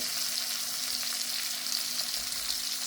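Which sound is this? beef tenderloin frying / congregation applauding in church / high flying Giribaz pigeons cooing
beef tenderloin frying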